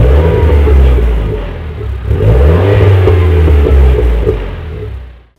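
A Renault Clio IV RS fitted with a stainless steel 4-back exhaust starts up and revs. Loud, close engine rumble rises and falls through several throttle blips, then cuts off abruptly at the end.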